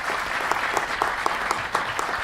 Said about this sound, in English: Will everyone please give them a round of applause for being here with us tonight?